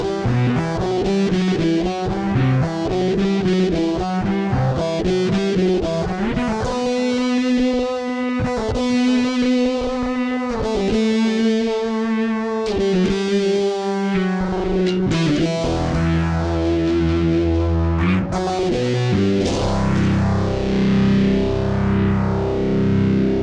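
Bass guitar played through a Fender Tone Master Pro with fuzz, distortion and tape delay, giving a thick, buzzy, saturated tone with smeared repeating echoes for classic prog rock, sustained and loud throughout with no talking.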